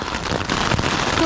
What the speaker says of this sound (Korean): 우박이 너무 많이 와요.